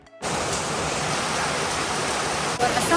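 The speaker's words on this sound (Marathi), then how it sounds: "धो धो पाऊस पडतोय" A heavy rain downpour on a rooftop terrace, a loud, steady wash of noise that starts abruptly and holds evenly for a few seconds.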